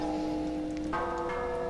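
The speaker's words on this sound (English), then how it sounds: "these chimes can swing around, collide with each other, and have it be a fairly, realistic sound" Simulated metal tube chimes ring out with sustained bell-like tones, and a second strike lands partway through as the chimes collide, adding fresh overlapping pitches over a steady background.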